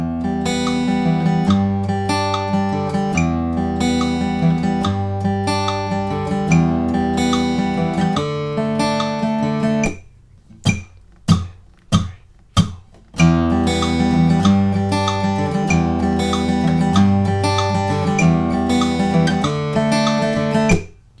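Acoustic guitar strumming the chorus chords of a song with a steady, full rhythm, broken midway by a few sharp, isolated stabs before the strumming resumes. Played alone, with no talking.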